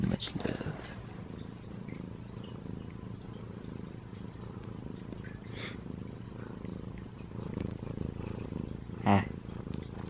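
A contented cat purring softly and continuously at low volume in a home, under some quiet background talk and household noise.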